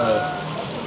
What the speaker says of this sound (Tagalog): Umuulan ngayon dito